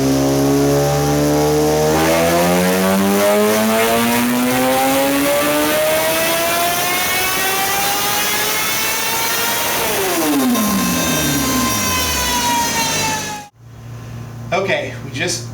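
A 2011 Kawasaki ZX10R with a slip-on exhaust is revved hard in one long, loud, close pull that climbs in pitch, drops back, and then cuts off abruptly before faint low rumbling follows.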